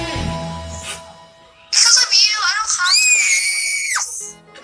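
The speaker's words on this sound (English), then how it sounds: "that's enough yelling" A young voice yells and shrieks loudly while playing Plants vs. Zombies: Battle for Neighborville, rising into sustained, wavering high-pitched screams after quieter talk at the start.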